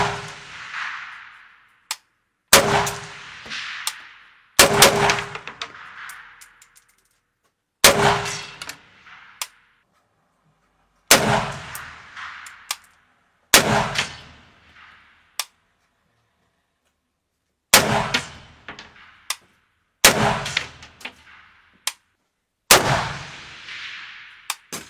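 An AKS-74U compact rifle fires 5.45 mm rounds outdoors, with about nine loud, sharp reports, single shots and short doubles, each trailing into a ringing echo and separated by brief pauses, with no talk.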